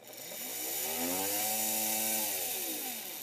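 The electric motor of an HO-scale Hobbytown of Boston ALCO PA-1 model locomotive, fitted with a new flywheel, spins up to a steady, smooth whine and then winds down, close and alone with no talking.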